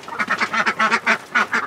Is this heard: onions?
no